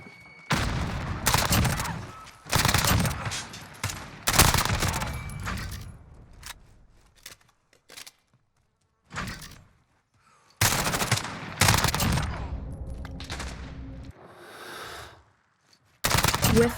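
Bursts of MP5 submachine gun fire in a first-person shooter, loud rapid volleys separated by short pauses and single shots, up close with no voices over them.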